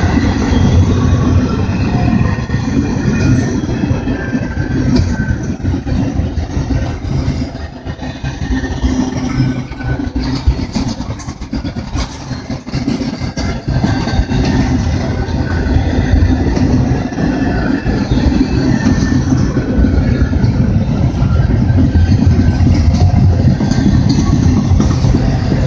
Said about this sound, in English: So this is all intermodal. No oil cans at all. It's stack train.